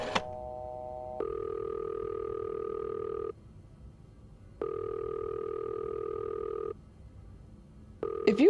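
A telephone in a video game rings out with no answer: long steady tonal rings, each about two seconds, separated by short pauses, repeating at a moderate level.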